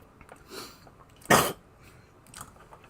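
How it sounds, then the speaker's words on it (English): A single sharp cough at close range, preceded and followed by faint throat sounds in a quiet room. "excuse me, I had a cough"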